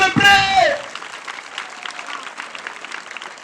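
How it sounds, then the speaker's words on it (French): A Christmas celebration crowd in Koffikro, Côte d'Ivoire, claps after a voice finishes speaking at the start, with sustained, moderately loud, scattered applause continuing to the end. "on applaudit"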